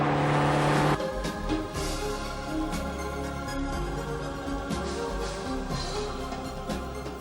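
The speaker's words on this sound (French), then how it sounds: "parvient sans problème à enchaîner les deux baïonnettes à 60 et 70 km/h" A Citroën Xsara driven through a double slalom at 60 to 70 km/h on a test track, with a sustained engine drone and tire noise that swells and eases through the turns, with no voices.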